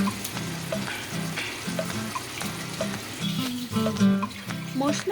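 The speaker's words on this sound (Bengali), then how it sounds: "মশলা কষে গেলে ভাজা মাছগুলো দিয়ে দিচ্ছি," Fried boal fish being stirred into sizzling masala in a pan, a loud crackling fry broken by repeated scraping and tapping of a spoon against the pan.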